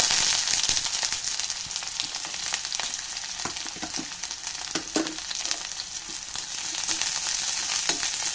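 Ginger, garlic and shallots fry in a pan with a steady, close sizzle and crackle, broken by occasional stirring clicks and scrapes, with no one talking.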